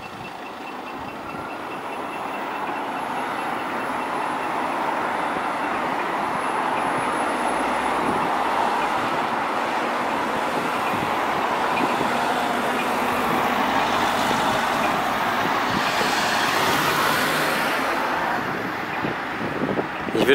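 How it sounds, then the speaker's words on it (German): Electric cars crossing a busy city intersection, a steady wash of tyre and road noise with soft whining motors rising and falling, continuous and moderately loud, with no voices. "wie das klingt, wenn nur Elektroautos über die Kreuzung fahren."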